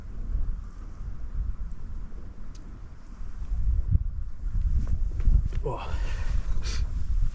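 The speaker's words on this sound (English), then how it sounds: "This wind down in here is cold." A cold wind blows outdoors, buffeting in a gusty low rumble that rises and falls, with a brief voice heard once.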